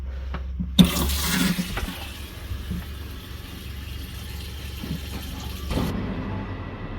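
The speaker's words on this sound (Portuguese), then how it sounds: "Vamos ligar a torneira." A water tap in a motorhome is opened with a click, releasing a rushing flow of water through the pipes that runs steadily for several seconds over a low engine hum before cutting off abruptly.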